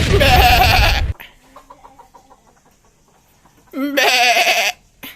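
A goat bleats loudly and close by in two bursts, one at the start and another after a quiet gap, with faint background sounds between them.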